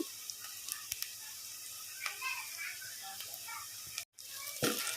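Onions and garlic frying in oil give a steady soft sizzle throughout, with a few sharp clicks and stirring scrapes, a brief dropout near the end, then the hiss resumes close and moderately loud.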